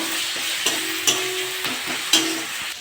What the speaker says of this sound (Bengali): আদা রসুন দিয়ে ভালো করে ভেজে দিয়েছি